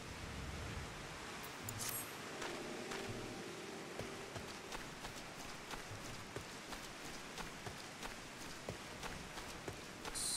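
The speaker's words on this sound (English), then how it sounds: "And it's raining here, too." Steady rain pours outdoors, a dense, continuous hiss of drops striking surfaces, with scattered sharper drips and taps standing out against the even wash of sound.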